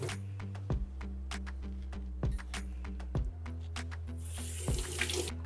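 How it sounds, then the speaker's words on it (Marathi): Mushrooms rinsed under a running kitchen tap, a constant gush of water into the sink with occasional clunks and shifts in the flow as the mushrooms are handled, close by and without talking. "आणि नंतर पुन्हा एकदा असं रनिंग वॉटरमध्ये धुवून घ्यायचे।"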